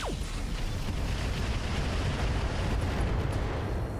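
Snub-nosed PPC fired in the BattleTech game RogueTech: a heavy, rumbling energy blast with a sharp descending zap at the start, then a sustained roaring boom filling the rest.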